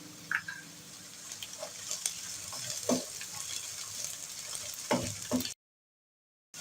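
Garlic and whole round red chillies fry in a pan over a medium flame, giving a steady sizzle with a few sharper stirring scrapes, then a sudden cut to silence near the end.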